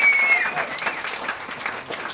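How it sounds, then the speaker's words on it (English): Applause from the audience for the judges, including mayors and a chancellor, at a Berkeley civic challenge event: a crowd clapping steadily and fairly loud, with a brief high tone near the start. "Applause for our judges, Mayor Ishii, Chancellor Lyons, Mayor Zotham"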